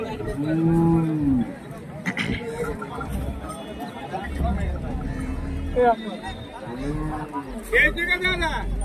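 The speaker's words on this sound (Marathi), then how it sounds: "शेतकऱ्याची बैल जोड आहे." A farmer's pair of bullocks at a busy cattle market low in several deep, drawn-out moos, loud and close, over steady crowd chatter and people talking nearby.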